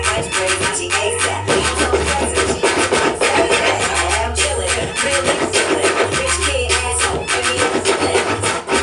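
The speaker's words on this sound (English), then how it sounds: "This is what they call basic scratching." Basic scratching on a DJ turntable, loud and close, with rhythmic back-and-forth record scratches cutting over a beat, the strokes repeating in quick rubbing bursts.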